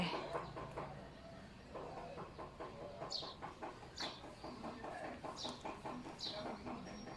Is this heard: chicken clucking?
yes